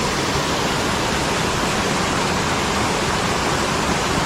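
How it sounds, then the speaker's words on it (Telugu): Rampa waterfall in Andhra Pradesh pours down forcefully, a dense, loud, unbroken roar of falling water filling the whole moment with no voices. "వాటర్ అంతా ఫోర్స్ఫుల్గా వస్తున్నాయి చూడండి"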